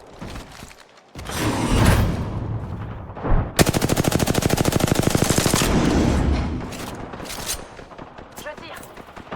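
Automatic gunfire in Apex Legends rattles as a long rapid burst of evenly spaced shots after a few scattered bangs, loud and close, with talk over the combat.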